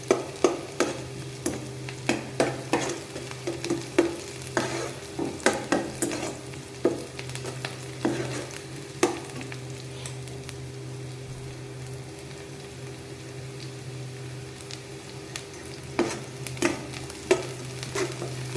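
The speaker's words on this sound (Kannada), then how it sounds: "ಸೊ ಇದು ಆಲ್ರೆಡಿ ಕುಕ್ ಆಗ್ತಾ ಇದೆ." Cauliflower and potato curry cooks in a pan with a steady low sizzle, punctuated by frequent scraping stirs throughout, close and clear, no talking.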